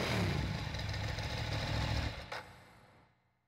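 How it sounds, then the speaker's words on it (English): A motorcycle arrives in the video game Persona 3, its engine rumbling loudly and close for a couple of seconds before the sound cuts down and fades to silence. "A motorcycle?"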